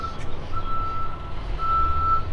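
A truck's reversing alarm beeps in long, steady tones, with a low engine rumble underneath.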